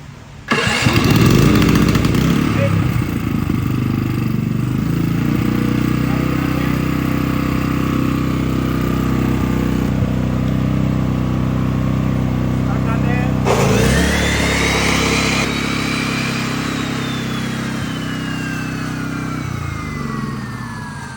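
An inverter generator started by remote control fires up and runs loud and steady, with a bright engine whine and a shift in pitch partway through, continuing as a constant close drone.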